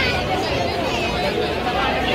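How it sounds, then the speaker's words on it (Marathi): Large crowd gathered on Marine Drive for an Indian Air Force airshow, a dense, continuous babble of many voices close by, steady and loud with no single voice standing out. "सर्व मित्रांनो गर्दी फक्त आणि फक्त एअर शो बघायला आले"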